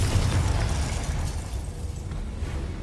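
A Confringo fire spell blasts in Hogwarts Legacy, a dense rumbling explosion that is loudest at the start and fades into a sustained roar across the few seconds.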